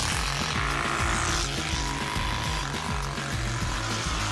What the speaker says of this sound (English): TurboSpoke fits to any kind of bike and makes it look and sound like a real motorbike